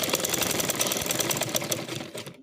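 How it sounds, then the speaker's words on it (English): A sewing machine stitches an overlap waistband in a steady, continuous mechanical whir with rapid needle ticks, close and fairly loud, stopping abruptly at the end. "Now start sewing like so."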